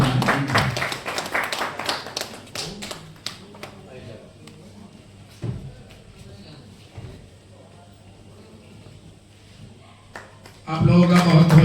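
Audience applause at an All India mushaira and award ceremony: a dense burst of clapping fades after a few seconds into someone speaking over scattered claps and hall noise.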